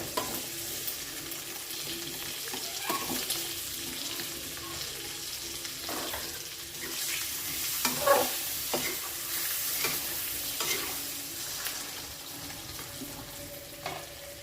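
Eggs frying in a pan for egg curry give a faint, continuous sizzle with occasional soft stirring clinks, heard quietly up close with no voices.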